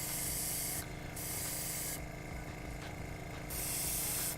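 Airbrush spray hisses in bursts while painting a WizKids Beholder model, a loud steady hiss that stops and starts several times, close up with no talking.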